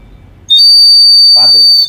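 A small bird-shaped water whistle toy is blown hard, giving a loud, piercing, sustained shrill whistle right up close that lasts over a second, with a brief murmur of a voice underneath near the end.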